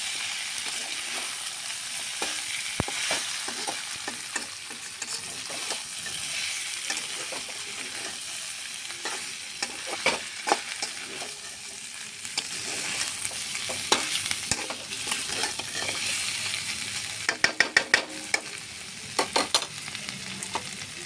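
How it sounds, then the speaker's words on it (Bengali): Chicken frying in oil with garam masala crackles in a constant close sizzle, scattered with sharp pops and spits that bunch together toward the end. "একদম লাল করে ভেজে নিয়েছি"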